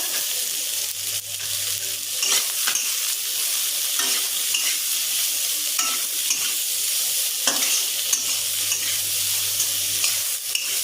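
Potatoes and onion sizzle steadily in a pan of hot oil, a continuous close frying hiss with occasional stirring scrapes and a faint low hum underneath, no voices.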